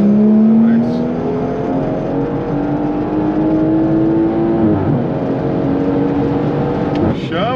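A project car's engine revs close by, its pitch climbing steadily over several seconds before dropping, then picking up again, while people talk over it.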